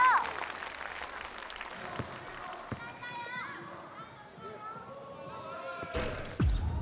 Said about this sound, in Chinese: 来掌声鼓励一下米兰